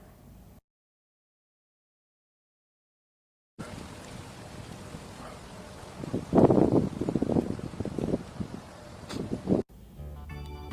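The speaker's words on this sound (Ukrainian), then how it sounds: "Тож давайте послухаємо вітер." After a stretch of silence, wind rushes and gusts against the microphone, building to a louder buffeting burst before easing off.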